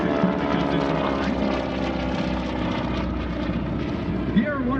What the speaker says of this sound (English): If you ever wondered what that loud sound is when a propeller-driven aircraft flies by like that roaring engine sound